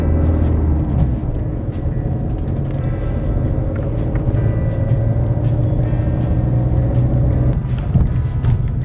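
A manual car pulls away after a gear change, the clutch brought to the biting point and then the accelerator pressed. A steady, close engine drone and road rumble run unbroken, with a slight dip near the end.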